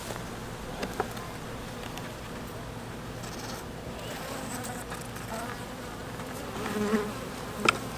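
Honey bees buzzing at an open hive during an inspection, a continuous close swarm drone with a few brief knocks and rises in intensity.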